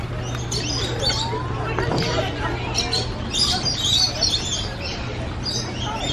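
Scattered chirps and tweets from nectar-feeding birds in an aviary flutter over a low steady hum, with faint background chatter from people nearby.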